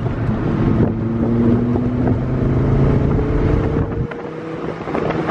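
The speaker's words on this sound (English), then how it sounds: "the V10, baby. The sound of a V10" A 2002 Dodge Viper SRT-10's V10 engine runs with a loud, deep, steady drone that holds and shifts slightly in pitch, with wind buffeting the microphone and a brief dip near the end.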